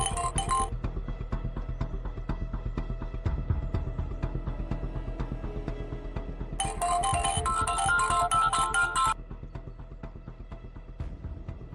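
A phone ringtone plays on repeatedly and goes unanswered, a loud steady electronic melody looping with brighter bursts, alone without voices.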